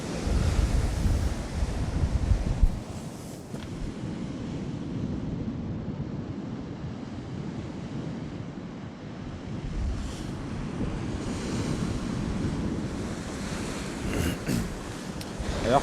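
Sea waves rolling onto the Northumberland shore, a loud continuous surf roar with wind buffeting the microphone and no talk.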